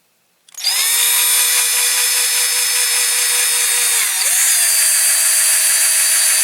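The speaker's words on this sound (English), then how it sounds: "We're going to drill the rivets out." A power drill spins up sharply and whines loudly at a steady pitch, dipping briefly as it bites into metal rivets on a Dinky Toys Rover 75 model car, then carries on.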